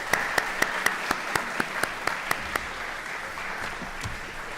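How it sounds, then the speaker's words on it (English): Sparse, evenly paced clapping from a small audience greets the candidates at a municipal election all-candidates night. The claps are faint, fade out after a few seconds and are followed by quiet room tone. "Let's give them all a round of applause."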